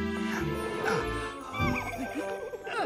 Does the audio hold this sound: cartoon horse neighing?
yes